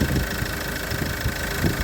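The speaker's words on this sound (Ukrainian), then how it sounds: "Але мотор працює." Car engine idling steadily after being decarbonized with Dimexide treatment, a continuous mid-pitched rumble with faint knocking texture, close and even throughout.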